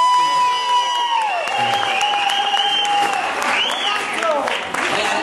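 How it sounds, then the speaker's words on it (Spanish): Concert audience applause with some cheering mixes with sustained, wavering musical tones for about five seconds, lively and close. "aplauso, ahí da un aplauso."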